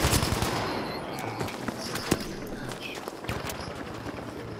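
In a video game shooter with an underground operation map and a KE7 light machine gun, a dense stretch of rapid automatic gunfire runs with sharp individual cracks and scattered footsteps, fairly loud and continuous throughout.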